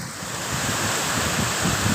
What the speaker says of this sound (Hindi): हवा वगैरह इतना शोर है और बारिश भी बहुत फुल तेज़ है